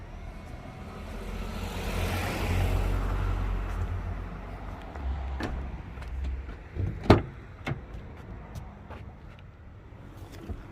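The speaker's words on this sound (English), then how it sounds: "To shut the tailgate, push that button there." The powered tailgate on a 2019 Nissan X-Trail 1.7 dCi Tekna closes with a soft motorized whirr lasting several seconds, then a firm latching thunk and a few light clicks afterward.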